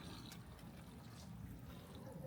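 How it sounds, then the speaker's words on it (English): Water pours steadily out of an aquarium filter in a continuous low, broadband gush that runs unbroken from start to finish, fairly faint and close, with no talk over it. "And then it's just pouring out water."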